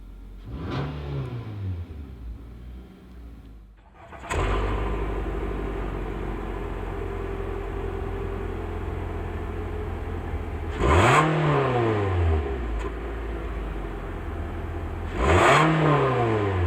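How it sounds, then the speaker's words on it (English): A 2016 Nissan Altima SR engine cranks and fires up by push button, rising in a sharp rev flare before settling into a steady idle, with two more quick rev blips later, close and loud without talk. "So to start the car, you just have to have the key in the vehicle somewhere."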